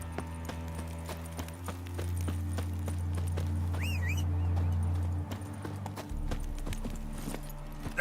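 The horse Roach in The Witcher 3 clip-clopping along at a steady walking rhythm, hooves clear over a low game ambience and a brief whinny-like chirp.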